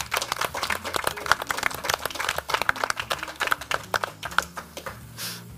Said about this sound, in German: Einen grossen Applaus!